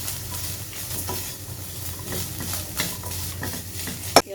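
Chicken being stirred with chili flakes, salt and spices in a pan, a steady scraping and stirring with a soft sizzle underneath and a sharp clink of the utensil near the end.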